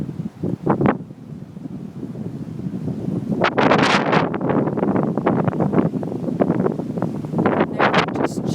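Strong gusting wind from a microburst hail storm buffets the microphone in loud, continuous roaring bursts, with a few brief louder gusts and faint rustling through the storm.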